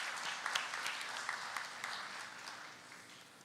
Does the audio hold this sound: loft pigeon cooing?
no